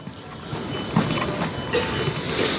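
An electric commuter train rumbles past steadily with a faint rail clatter and hiss, fairly close, with no voices.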